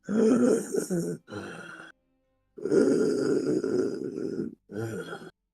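A voice imitates ragged breathing with rough, strained gasps and grunts in long drawn-out pulls, close and loud, split by short silent pauses.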